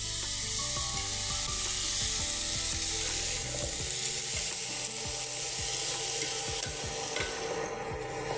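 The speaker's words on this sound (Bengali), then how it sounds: "এবারে পুরোটাই আমি ভালো করে সমান করে একদম ভেজে নিচ্ছি।" Chunks of pumpkin, eggplant and sweet potato frying together in a pan, a steady bright sizzle running throughout with repeated scraping stirs of a spatula against the pan.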